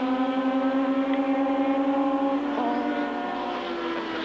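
Racing cars at Lakeside Raceway in the 1983 Australian Drivers Championship give a sustained, high engine whine heard from a distance, which holds steady and then drops in pitch as a car sweeps past.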